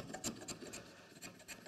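Short pull strokes of a spokeshave take the hard corner off a carved wooden scoop, making quiet, close scraping shaves repeated in a quick uneven rhythm, with no speech.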